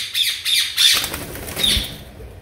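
A ringneck parakeet lets out several sharp, close squawks in quick succession, followed by a brief flutter of wings.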